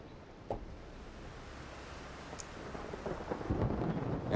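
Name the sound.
Rainstorm sound patch from Omnisphere synthesizer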